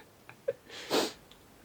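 A single soft sneeze bursts out after a couple of quick breaths, faint and close in a quiet indoor room, with no talking over it.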